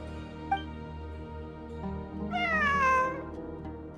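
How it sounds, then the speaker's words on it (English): A cat gives one drawn-out, clear meow over a steady low background hum. A couple of soft knocks come before it and one after it. "It really is a cat."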